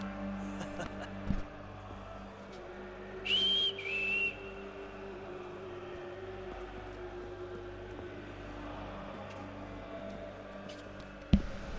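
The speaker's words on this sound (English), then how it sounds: "Who the heck whistled?" A short two-note whistle in the Assassin's Creed III video game, clear and moderately near, sounds over a low steady ambient hum, with a few scattered thumps around it.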